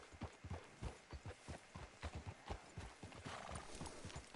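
Horse hooves clip-clop in a steady walking rhythm in a Western-style video game, close and fairly quiet, with the trotting beats giving way to a softer muddle of movement near the end.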